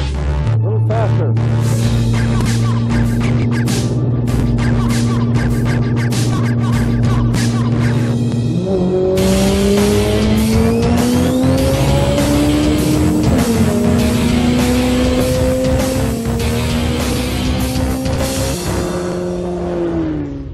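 A BMW X5 M pushes a Flat Fire race car across the desert at around 40 mph to bump-start it, with a loud, steady engine drone that climbs in pitch as both cars gain speed. Voices talk over the engines throughout.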